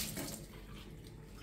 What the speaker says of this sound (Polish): No co mi tak chlapisz?